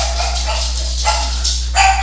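Excited pet dogs bark in bursts, a few sharp yaps rising above a steady electrical hum in the background.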